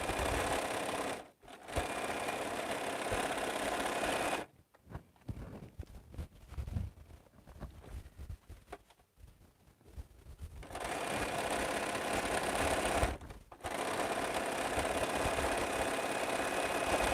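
A sewing machine stitches quilt borders in sustained runs, a close mechanical whir broken by brief pauses and a quieter stretch of handling noise in the middle.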